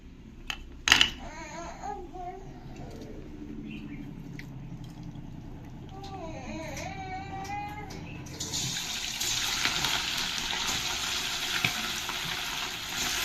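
A paste of ground ginger, garlic, fennel and black pepper sizzles in a pan for pepper chicken, starting as a quiet hiss and then swelling after a few seconds into a loud, steady frying roar with a few light clinks.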